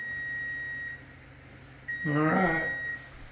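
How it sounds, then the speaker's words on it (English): A kitchen timer beeps with a steady tone while egg nog bread bakes, sounding twice with a gap between; a voice cuts in over the second beeping. "the alarm's going off."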